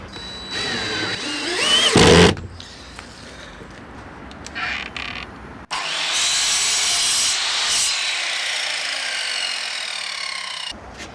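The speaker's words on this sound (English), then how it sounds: "I can't find my countersink, so I'll just do a pilot hole. That'll help it in." A drill bores a pilot hole into the wooden frame of a cabin, a short loud burst followed by a sustained whirring run of several seconds, close up with no talking.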